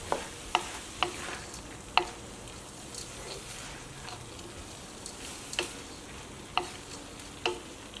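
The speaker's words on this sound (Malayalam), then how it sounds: "ഇതെല്ലാം കൂടിയിട്ട് ഒന്നുകൂടി ഒന്ന് മിക്സ് ചെയ്യാം" Green gram stir-fry (cherupayar thoran) being stirred in a pan over medium flame, with a spoon scraping and tapping at intervals over a soft, steady cooking hiss.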